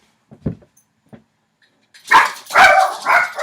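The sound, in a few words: dogs barking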